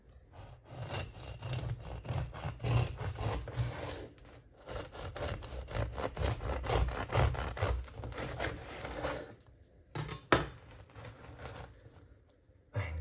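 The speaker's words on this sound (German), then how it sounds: "Ich schneide das Brot mal an." A knife saws through a homemade, additive-free toast bread loaf with an overnight rise: close, steady rasping strokes that run almost continuously, with a short pause near the end before a few final cuts.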